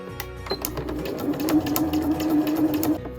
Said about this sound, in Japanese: それでは下糸を青、上糸を白で縫っていきたいと思います。